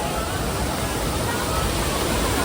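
A fast, high-pressure stream near Kanheri Caves in Sanjay Gandhi National Park, Borivali, rushing as a loud, dense, unbroken roar close by.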